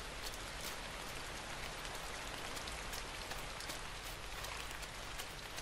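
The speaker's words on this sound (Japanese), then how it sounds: "雨だ、風邪ひきそう。" Steady rain falling in the video game INSIDE, a dense continuous hiss of drops on surfaces with no talking over it.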